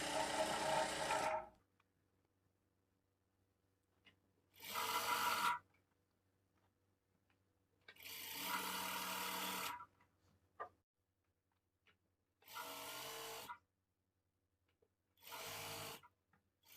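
Sewing machine stitching piping onto cloth, running in five separate bursts of steady mechanical whirring with quiet pauses between them, close and fairly loud.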